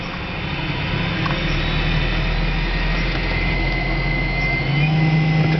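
An electric motor converted car, parked in neutral with the parking brake on, revs up and holds a steady loud whine and drone over continuous low rumble, with the pitch lifting slightly near the end.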